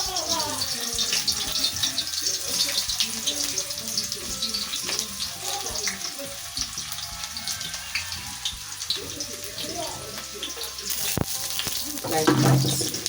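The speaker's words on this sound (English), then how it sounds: "Add your onion to your cooking pot" Onion frying in a cooking pot sizzles loudly and continuously, with bursts of crackle, stirring scrapes and a few knocks against the pot close up.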